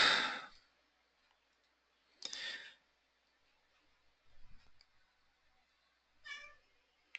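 A cat meows several times in a quiet room, with clear calls separated by silences and a softer breathy sound between them.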